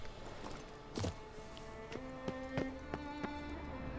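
Horse hooves clip-clopping in The Witcher 3 video game, a steady run of distinct hoof strikes at moderate distance over a constant game ambience and music bed, with no talk.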